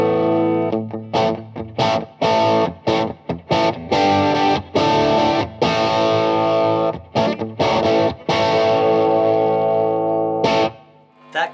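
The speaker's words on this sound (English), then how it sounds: "the Analog Man King of Tone kicked in" A Collings electric guitar runs through an Analog Man King of Tone overdrive pedal into a JTM45 amp, producing loud, crunchy overdriven chords and riffs. The playing is choppy, with frequent short stops between bursts.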